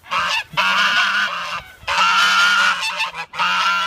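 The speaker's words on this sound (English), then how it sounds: "We got some geese." Geese honk loudly and repeatedly in three bursts separated by brief pauses, a noisy overlapping chorus of harsh calls close by.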